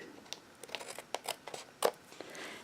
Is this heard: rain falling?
no